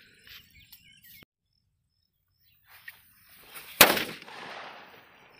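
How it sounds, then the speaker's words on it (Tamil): A small Valangaiman country firecracker goes off once with a sharp, loud outdoor bang, followed by a brief rumbling tail after a few faint ticks and quiet moments. "செம்ம சவுண்டு வந்து பார்த்தீங்கன்னா வலங்கைமானில் இருக்கக்கூடிய நாட்டு வெடியில் இருக்கக்கூடிய சின்ன வெடி"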